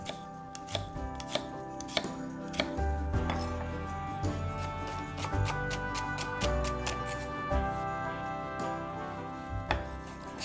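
An onion being chopped with a knife, a series of sharp, fairly regular clicks and knocks on a board, near and clear over a faint background hum.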